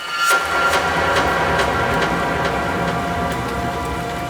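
Steady, heavy rain falling at night, a dense continuous hiss with scattered louder drops and patters, close and unbroken throughout.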